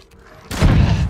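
An explosive arrow strikes an enemy in the video game Ghost of Tsushima, giving a sudden loud boom that rolls into a dense, rumbling blast lasting about half a second after a quieter lead-in.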